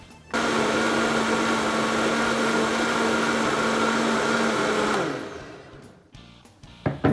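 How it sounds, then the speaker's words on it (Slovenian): Loud, steady whir of a kitchen blender mixing cooked chickpeas into a thick paste, running continuously for about five seconds before spinning down, followed by faint clatter. "tole bom zdaj v blenderju zmešala, da dobim eno gosto zmes"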